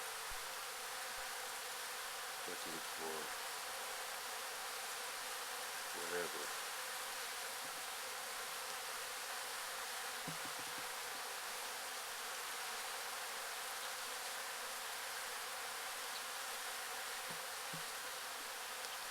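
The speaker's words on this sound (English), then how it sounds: "And I took the cup away, and the bees are still swarming." A swarm of bees gathered by a door, buzzing as a steady, diffuse hum that fills the whole stretch, with a few brief louder passes of individual insects close by and a faint voice briefly murmuring.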